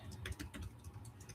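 Someone types text on a computer keyboard in a quick, uneven run of close clicks and key taps, with no speech over it.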